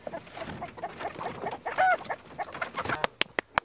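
Backyard homestead chickens cluck and chatter softly at close range, mixed with rustling movement, a few brief higher calls midway, and several sharp clicks or taps near the end.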